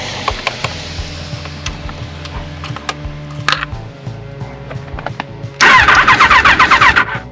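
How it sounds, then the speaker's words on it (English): A motorcycle engine cranks with repeated starter whirring and clicks, then catches and fires into a loud, steady chugging idle close by, after a fault caused by a bad ground wire. "I believe I have its cranking problem solved."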